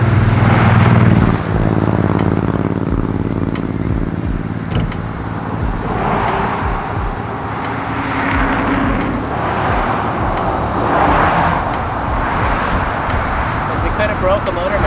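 A car with aftermarket mufflers is run at wide open throttle: a loud, sustained engine roar surges and swells with passing rumble, while people talk over it.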